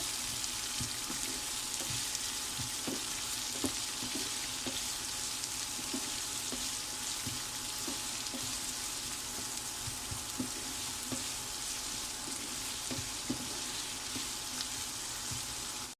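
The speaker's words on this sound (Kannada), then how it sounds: "ಆನಿಯನ್ಸ್ ಕಟ್ ಮಾಡ್ಕೊಂಡಿದ್ದೀನಲ್ಲ ಫ್ರೆಂಡ್ಸ್ ಅದನ್ನು ನಾನು ಇದಕ್ಕೆ ಹಾಕ್ತಾ ಇದ್ದೀನಿ ಇದನ್ನು ಸ್ವಲ್ಪ ಗೋಲ್ಡನ್ ಕಲರ್ ಬರೋದಕ್ಕೂ ರೋಸ್ಟ್ ಮಾಡ್ಕೋಬೇಕು" Chopped onions fry in oil in a pan, a continuous soft hiss and sizzle held at a steady, quiet level, with faint periodic taps of stirring underneath and no talking.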